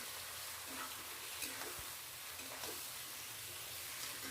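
Spice paste with turmeric and salt frying in a pan over low to medium gas: a constant, even, faint hiss of sizzling oil with a few soft stirring taps, no voices.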